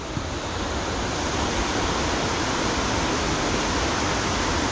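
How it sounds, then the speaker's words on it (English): Water rushes in a dense, steady roar, loud and continuous like a powerful waterfall close by, with no voices. "You hear the rush of the water now."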